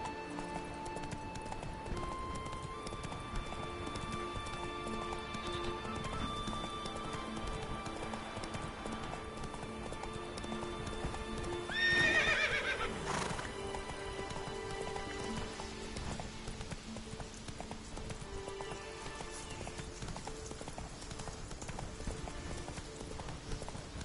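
Roach, a horse in The Witcher 3, gallops with steady rhythmic clip-clop hoofbeats and a brief whinny midway, set against quiet ambient game sound with no speech.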